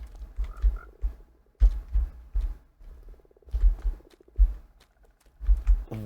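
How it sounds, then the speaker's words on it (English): Repeated deep frog croaks in Minecraft, in short bursts, loud and close, with brief pauses between calls and a faint background hum. "Frog."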